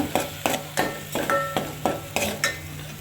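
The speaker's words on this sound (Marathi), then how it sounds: "आता हा वाटण चांगला परतवून घेतो" A spoon scrapes and stirs a thick ground spice paste in a pan in regular strokes, roughly every third of a second, over a faint sizzle.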